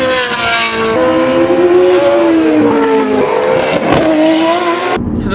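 Race cars at the Adelaide Motorsport Festival scream past in a loud, continuous engine roar, rising and falling in pitch through gear changes as they pass close by, with a brief tire squeal and an abrupt cut near the end.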